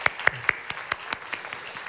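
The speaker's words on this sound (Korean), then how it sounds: "모든 어머니 아버님들께 따뜻한 감사의 박수를 올려드리도록 합니다" Congregation applause in a church during a sermon, a short run of evenly spaced, fairly distinct claps, with a faint voice underneath.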